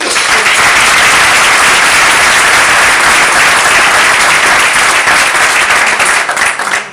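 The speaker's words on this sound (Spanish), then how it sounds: "Pedimos un fuerte aplauso para ellos, por favor." Loud, close audience applause at an energy-technology awards ceremony, thick sustained clapping from a large crowd that holds steady for about seven seconds before cutting off.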